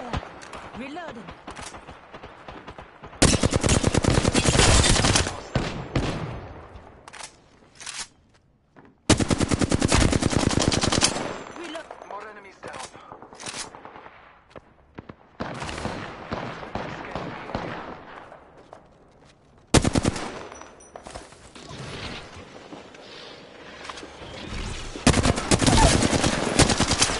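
Repeated bursts of automatic weapon fire in the Apex Legends battle royale game, loud rapid volleys alternating with quieter stretches of game sounds and a voice calling out.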